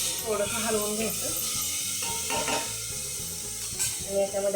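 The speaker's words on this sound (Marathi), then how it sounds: "थोडंसं हलवून घ्यायचं" Sprouted moth beans stirred in a pan with a little oil and turmeric for Kolhapuri misal, a soft scraping stir over a steady sizzle, close and moderately quiet.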